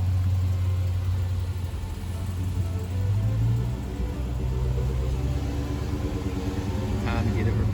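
A 2021 Dodge Challenger Hellcat Redeye is driven slowly to the back of a repair shop, its engine giving a steady low rumble throughout, with people talking over it.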